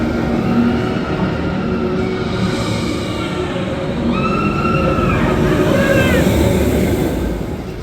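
Steady loud rumble and rushing noise of the Tron roller coaster at Walt Disney World, with whooshing track noise and a few rising and falling tonal whines as the coaster runs, riders' voices faintly mixed in.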